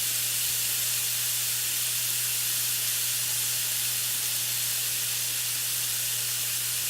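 Shrimp in an olive oil marinade sizzle steadily in a hot pan, a constant even hiss throughout with a low steady hum underneath and no voices.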